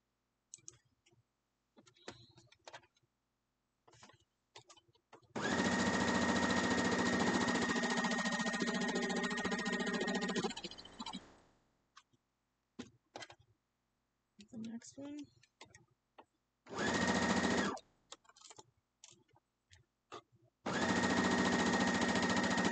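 A sewing machine stitches quilt block pieces in three long runs of rapid, steady mechanical chatter, with quiet clicks, handling sounds and pauses between the runs.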